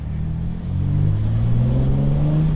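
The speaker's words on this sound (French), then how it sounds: "Si vous êtes amateur de moteur et de sonorité, vous aimerez les V6." A Morgan Roadster V6 3.0 engine pulls uphill, a close, steady low drone that rises gradually in pitch as the car accelerates under load, with no talk over it.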